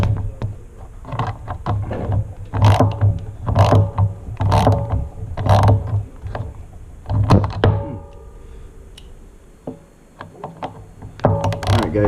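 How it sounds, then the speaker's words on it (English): Socket set ratchet removing nuts from the seat mount of a Sur-Ron X electric dirt bike, repeated close clicking and clunking ratchet strokes in irregular bursts with short pauses between them. "we're actually going to use a 5/16 socket set to go ahead and remove that"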